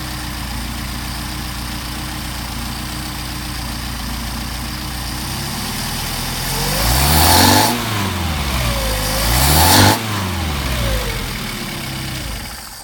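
A Mercedes 190SL engine with Solex carburetors idling steadily after a hot restart, loud and close, with two sharp revs that rise and fall back to a smooth idle.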